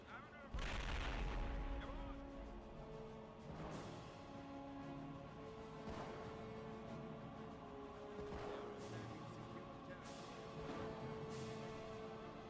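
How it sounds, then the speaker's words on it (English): Artillery shells strike an observation point in a war video game, firing as several sharp booms spread across the clip, each with a short rumbling tail, over steady game music. "they are shooting the observation point"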